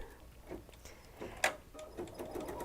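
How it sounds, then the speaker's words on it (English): An embroidery machine stitches a circle with a quiet, steady run of light ticking and clicking, close by but faint, with one sharper click partway through. "And it's going to stitch me a circle."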